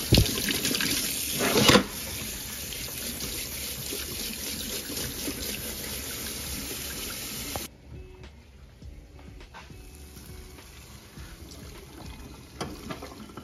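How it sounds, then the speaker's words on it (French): Running tap water rinses out a freshly cleaned microwave in a kitchen, a steady broadband rush for about eight seconds that then cuts off, leaving quieter dripping and small clatters. "Je vais rincer un coup."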